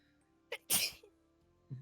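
A single loud, sharp sneeze with a short intake of breath just before it, followed by a quiet low murmur.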